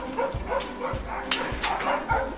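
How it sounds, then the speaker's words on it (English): A dog barks in a handful of short, close bursts at a car wash, with voices murmuring between them. "Barking at people?"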